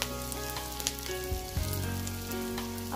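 Chopped onions fry in a pan in a steady, close, even hiss of sizzling oil, with a few soft stirring bumps and no talk.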